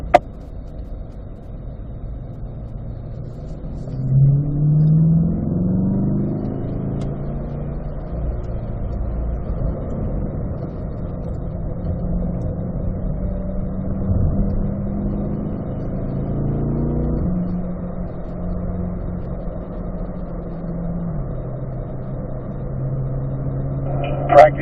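A race car engine drones low and muffled through a warm-up lap, swelling and easing as revs rise and drop between shifts. It holds a steady, close presence with no voices.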